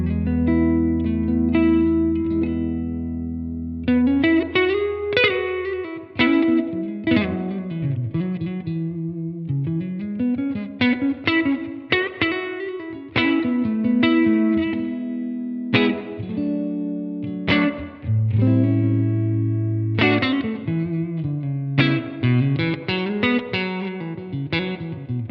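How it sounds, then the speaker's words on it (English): Electric guitar played through a Blackstar AMPED 1 set to KT88 power-amp response with the USA preamp voicing, a loud, continuous distorted lead and chord passage with sustained notes and fast runs, heard alone without talk. "So right now it's set to KT88 with the USA preamp, and that sounds like this."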